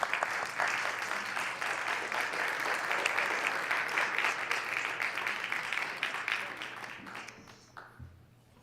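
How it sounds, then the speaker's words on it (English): A crowd in the South Dakota Senate chamber applauds with steady, dense clapping for about seven seconds before it fades out, followed by a brief voice. "Let's give him another round of applause."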